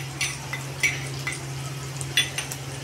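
Tomatoes and crushed ginger fry in a pan for a masoor dal Maggi, a soft sizzle with light clinks of a spoon stirring against the pan over a low, steady hum.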